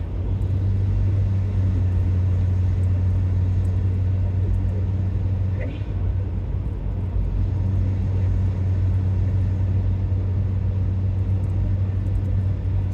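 Low steady exhaust drone inside the cabin of a 2009 Acura RDX fitted with a Magnaflow unit, Thrush muffler and 4-inch tips, cruising at light throttle; constant deep hum with faint road rumble, no one speaking.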